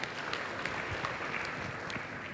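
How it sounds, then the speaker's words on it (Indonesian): A church congregation applauds, steady dense clapping that stays even and moderately quiet from start to end of the short stretch. "Berikan tepuk tangan bagi Tuhan."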